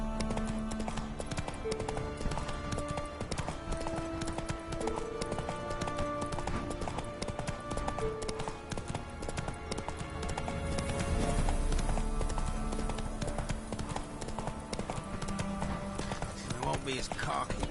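In The Witcher 3, the horse Roach gallops with a rapid, continuous clatter of hoofbeats beneath game music and a voice speaking.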